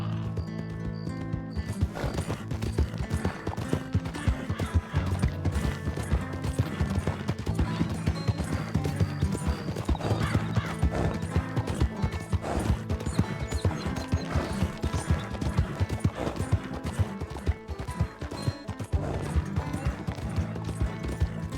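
Horse in Red Dead Redemption 2 with steady clip-clop hoofbeats and occasional whinnies, loud and continuous over a dense bed of game music and effects.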